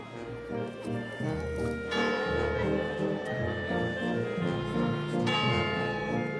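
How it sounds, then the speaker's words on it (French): A carillon rings from a 300-year-old town clock over a medieval market square in Germany, a steady run of layered bell tones filling the space amid crowd murmur and street bustle. "L'horloge vieille de 300 ans attire les foules sur la place du marché où le carillon sonne toutes les heures."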